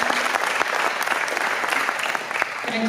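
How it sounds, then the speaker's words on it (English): A room of people at a club meeting applauds steadily and loudly throughout, dense continuous clapping with a few murmured voices mixed in. "Let's give Barbara and David another round of applause"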